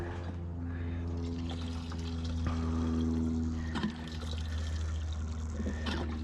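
Fuel being poured into gas-powered equipment outdoors, a steady liquid trickle and splash over a constant low hum, with a few small knocks.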